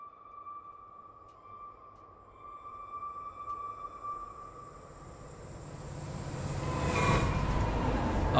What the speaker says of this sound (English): Alright, we're in a car. We're at a train crossing.